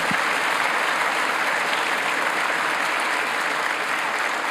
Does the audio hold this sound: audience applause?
yes